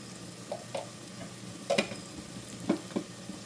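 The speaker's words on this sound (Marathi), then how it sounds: "आता ह्यामध्ये मी घालत आहे हळद" Mutton masala frying in a pan as turmeric goes in: a soft, steady sizzle with a few light stirring scrapes and clinks, fairly quiet throughout.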